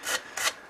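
A walnut bowl being hand sanded: two rasping strokes of abrasive on wood, each about a few tenths of a second, close and moderately loud, with no voices.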